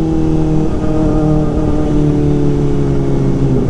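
A Kawasaki Ninja ZX-4RR motorcycle's exhaust revs loud and close in a steady, high-pitched whine. The engine holds at high revs throughout with a smooth, continuous tone.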